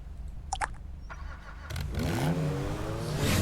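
A car in the FiveM roleplay game rumbles at idle with a few clicks and knocks, then its engine revs up and climbs steadily in pitch as it pulls away and accelerates, fairly close and without talk.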